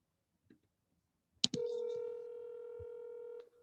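A phone key press is followed by a steady telephone tone that holds for about two seconds, quiet and close, with a few faint taps before it.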